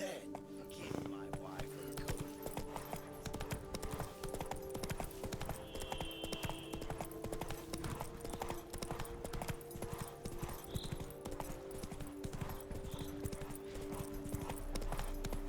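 Hooves of Roach, the horse in The Witcher 3, clip-clop in a steady walking rhythm throughout, fairly quiet beneath game ambience, with a short whinny-like tone partway through and faint voices at times.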